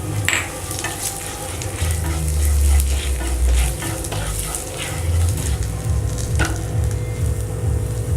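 Chili stirred and frying in a pan of spices for shahi paneer, a steady close sizzle with low scraping stir strokes throughout and no talk.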